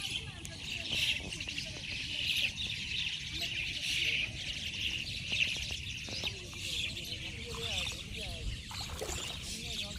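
Young myna birds call by a river in a steady run of high, scratchy chirps that keep repeating, while people talk nearby over the birds.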